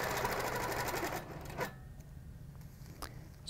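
A sewing machine stitches fabric guided by a quilting ruler, a steady close mechanical whir for about a second before cutting off, then faint clicks and a brief rattle as the ruler shifts.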